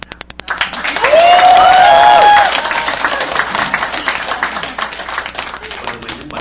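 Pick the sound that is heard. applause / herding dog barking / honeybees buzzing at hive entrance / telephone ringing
applause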